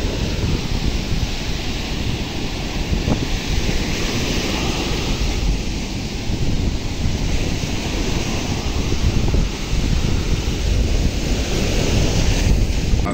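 Rough, stormy sea waves crashing on the shore at Thalaiyadi beach, a loud continuous roar of surf with heavy wind buffeting the microphone throughout.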